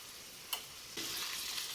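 Ginger garlic shrimp hitting a hot pan, a quiet steady sizzle that jumps into a louder, denser hiss partway through after a brief tap, with no one talking.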